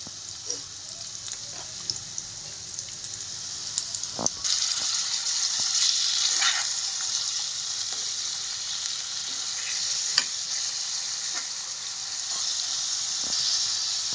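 Onion, curry leaves, cumin, mustard seeds, garlic and tomato sauté in a pan. A loud, steady sizzle rises after a few early clicks, with scattered spatula knocks and scrapes, close up and without voices.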